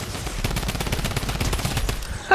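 Gunfire in the Fortnite video game, a rapid run of sharp shots from a shotgun in a steady burst, loud and close throughout with no talking.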